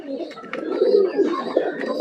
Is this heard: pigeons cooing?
yes